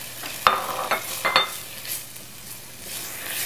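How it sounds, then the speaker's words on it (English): Garlic goes into a pan of sizzling tomatoes, with a couple of sharp utensil clicks against the pan over a steady low frying hiss and some stirring. "Now, I'm going to add in some garlic."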